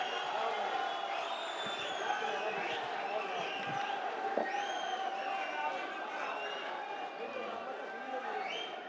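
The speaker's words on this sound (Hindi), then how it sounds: "बहुत सारी तालियां हैं" An audience at an Urdu mushaira in Oman applauding and cheering a poet's arrival, a dense wash of clapping with scattered whoops and shouts filling a large hall, with voices mixed in.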